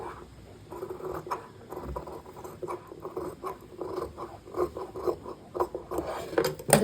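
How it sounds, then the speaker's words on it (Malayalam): Scissors cut a neck-shaped piece of fabric for a front-open top in a run of quick, close crunchy snips, with irregular bursts of clipping and no speech. "ഈ ഒരു നെക്കിൻ്റെ ഷേപ്പിൽ ഈ ഒരു പീസ് നമുക്കൊന്ന് കട്ട് ചെയ്തെടുക്കാം"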